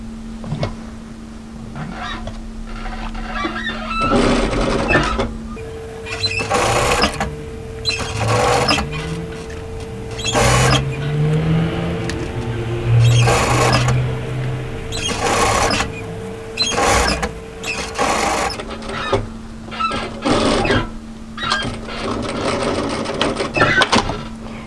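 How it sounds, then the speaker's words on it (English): A sewing machine stitches a 1 cm seam on a knit military jacket cuff in quick repeated bursts of whirring with short pauses between them, close and loud. "stitch that cuff into place with a 1 centimeter seam allowance"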